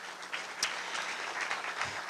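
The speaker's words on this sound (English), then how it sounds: "So give yourselves a round of applause" County staff applauded by an audience at a State of the County gathering, a sparse, moderate patter of hand claps with a few sharper individual claps, fairly faint and uneven.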